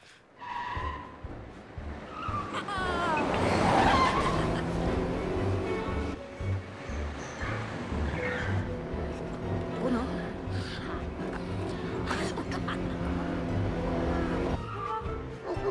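A car driving in a German comedy film, its engine revving up and tires squealing in a long skid that swells loudly early on, then a sustained motor drone with more squeals and scrapes, mixed with film sound.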